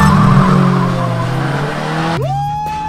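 A customised Fiat car launching at the start of a race, engine droning loudly before a rising whine and tire squeal kick in near the end, close and continuous.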